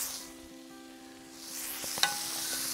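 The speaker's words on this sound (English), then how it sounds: "Moving the scallops in and amongst the chorizo" Scallops and chorizo hiss and sizzle on a Vulcanus grill as they are moved around, a soft steady frying noise that swells toward the end, with a sharp scrape or clink near the two-second mark.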